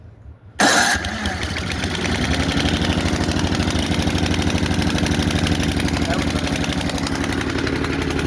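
A small gasoline engine with fuel valve open, full choke, full throttle and three primes catches with a sudden loud start, then settles into a steady, even running drone that continues close by throughout.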